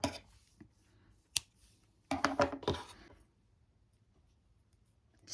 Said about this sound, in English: So let's cut the yarn.